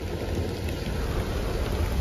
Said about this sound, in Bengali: বাইরে দেখো বৃষ্টি পড়া শুরু হয়ে গেছে। এ দেখো, বেশ ভালো জোরে বৃষ্টি